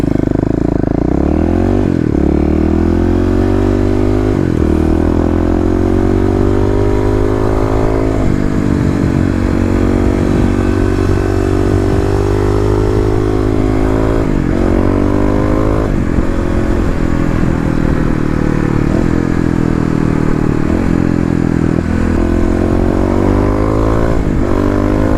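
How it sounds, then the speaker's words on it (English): A fuel-injected Kawasaki KLX351 dirt bike engine roars loud and close throughout, revving up and dropping through repeated gear changes as it rips along, with rattling clatter and no talking. "KLX RIPS!"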